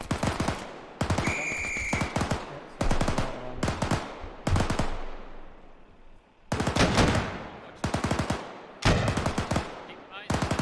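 Gunfire in the military video game ArmA, with repeated bursts of automatic fire and single loud shots that come close together in rapid clusters, plus short gaps and some speech.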